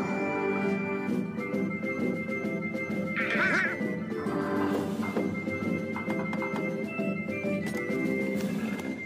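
Donald Duck quacking in the Kingdom Hearts video game, short nasal quacks over a steady bed of game music with no talk.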